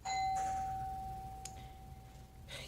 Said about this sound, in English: there was the doorbell